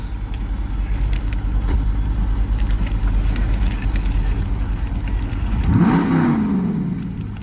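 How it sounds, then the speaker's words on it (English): Idling car engine, loud and close, on a Halloween night patrol. It holds a steady rumble, then is revved once near the end, the pitch sweeping up and falling back. "Can I rev it?"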